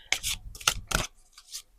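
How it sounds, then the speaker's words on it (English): Tarot cards shuffled by hand in a few quick riffling bursts, crisp papery rasps close up with short gaps between, then softer sliding of the deck. "we're going to give it a good shuffle before we pick."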